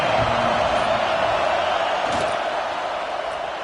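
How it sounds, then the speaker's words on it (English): Dense stadium crowd roar at a college football game against Washington, a steady wall of noise from start to finish with no single voice standing out. "Listen to the crowd energy here in the early going."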